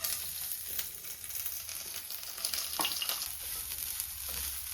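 Steady crackling sizzle of coconut and spices roasting in hot oil, with occasional stirring scrapes, continuous and close throughout.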